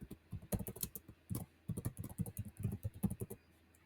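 Keys clatter steadily on a computer keyboard as a name is typed into a Google Form, a quick irregular run of close, fairly soft keystrokes with brief pauses and no talking.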